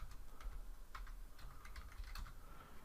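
A short run of keystrokes on a computer keyboard typing the diskpart command at a Windows command prompt, quick light taps over faint background noise.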